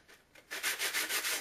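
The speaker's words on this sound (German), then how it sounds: "die Feder an diesem Schleifpapier entlang, solange bis wir den Kiel so weit runtergeschliffen haben" A feather quill is rubbed back and forth along sandpaper to grind down the shaft for arrow fletching, a faint scrape first, then five or six loud, close, rhythmic rasping strokes with no talk.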